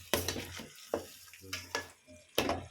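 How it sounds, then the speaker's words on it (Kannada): Coriander powder and garam masala being stirred into a sizzling chicken gravy base, several brisk scraping strokes with a spoon against the pan over steady frying hiss, close and moderately loud. "ಈಗ ಇದಿಷ್ಟನ್ನು ಚೆನ್ನಾಗಿ ಮಿಕ್ಸ್ ಮಾಡ್ಕೊಳ್ಳೋಣ"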